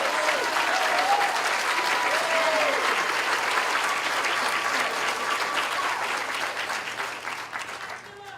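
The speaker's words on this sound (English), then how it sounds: "Let's give these credentialed students another round of applause." Audience at a high school senior scholarship and honor graduate night applauds students on stage, loud sustained clapping with some cheers and voices, tapering slightly toward the end.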